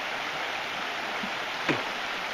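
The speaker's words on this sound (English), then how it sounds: "creek's got a fair amount of water in it" Buck Creek flows on a hiking trail: a soft, steady running-water wash heard from a short distance, with one brief thump or splash near the end.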